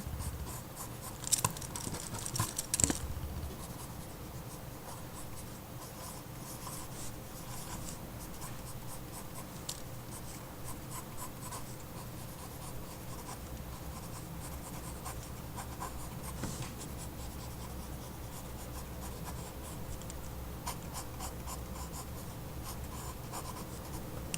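Pencil scratching lines on paper while sketching a manga-style hand, soft and close, with steady strokes and a couple of sharper taps early on, no talking.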